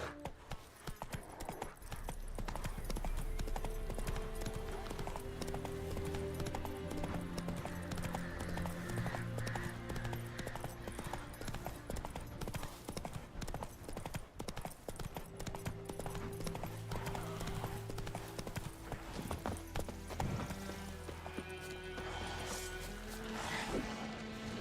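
A horse gallops in the video game The Witcher 3: Wild Hunt, with rapid rhythmic hoofbeats running throughout over a game soundscape and occasional whinnies.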